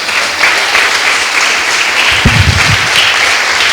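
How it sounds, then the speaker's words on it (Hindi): Loud, dense applause from an audience at a church session, a continuous close wash of clapping with a few heavier claps standing out, and no voices over it. "तालियां बजाकर।"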